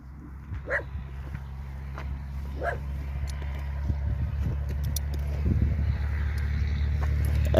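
A few sharp dog barks sound at a distance in rural Argentina, spaced apart, over a steady low rumble of background noise.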